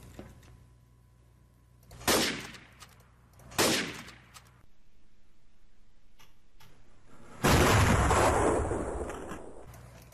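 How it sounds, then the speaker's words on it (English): Gunfire in the game Trouble in Terrorist Town comes as two sharp separate shots followed a few seconds later by a longer loud burst of rapid fire, over a quiet background. "Shit, I heard shooting, get down."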